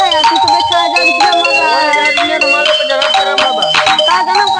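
A mobile phone ringtone plays loud and continuous, a bright electronic melody with sustained tones and steady repeating phrases filling the whole stretch.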